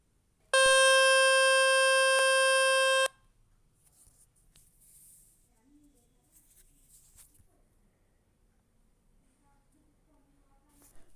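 A loud, steady electronic tone plays from a phone speaker to push water out, running continuously for about two and a half seconds, then stops, leaving only faint room noise.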